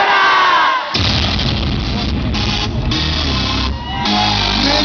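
Rap concert crowd in Soverato shouting back at the performer in a call-and-response chant, a loud, dense mass of voices in repeated surges with brief dips between them.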